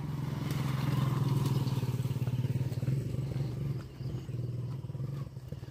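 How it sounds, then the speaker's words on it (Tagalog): Motorcycle engines idling and puttering on a rural country road, a steady low rumbling drone with a brief dip midway before resuming, fairly close, with no talk. "Mga motor."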